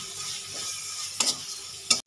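Masala cooked until the oil separates, with turmeric and chili powder added for a chicken and pointed gourd dorma, sizzles steadily in a pan while being stirred, with two sharp scraping stirs of the spatula near the end.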